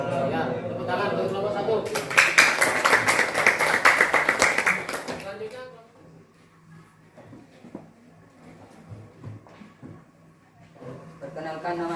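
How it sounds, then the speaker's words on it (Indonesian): A classroom group claps for a student team's presentation in an Indonesian teaching practicum, building into a short burst of brisk, close applause that fades after a few seconds into a quieter room with voices and small knocks. "tepuk tangan untuk kelompok 1"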